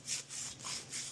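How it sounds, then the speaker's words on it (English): Brush scrubbing out the grinder of a Breville BES870XL espresso machine, four soft rhythmic bristle strokes close by, faint and without talk. "you wanna take the brush and clean here"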